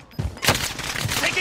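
Rapid gunfire in the shooter game Call of Duty: Modern Warfare, a sharp burst followed by a dense rattling volley of shots, loud and close, with a voice talking over it.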